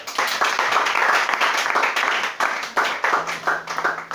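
A church congregation applauds during a French-language worship service, with sustained, uneven clapping from many hands that rises and dips in dense bursts for several seconds.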